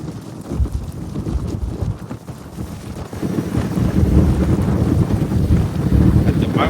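Heavy, rumbling wind buffets the microphone on a Suzuki Hayabusa motorcycle riding into the wind. The roar is continuous and close, and it grows stronger in the second half.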